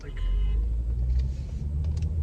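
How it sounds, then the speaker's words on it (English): Road traffic in Jamaica, Queens, New York, heard from inside a moving car: a steady, loud low engine and road rumble fills the whole stretch, with faint passing-vehicle sounds above it. "there's just so much traffic right now."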